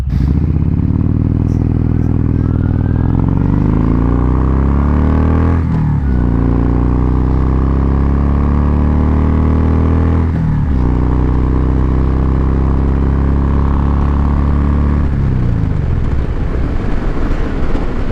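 Kawasaki Vulcan Voyager motorcycle fitted with Sharkroad exhaust mufflers, loud deep engine rumble close up as it pulls away and accelerates, revs climbing then dropping at gear changes, no talk.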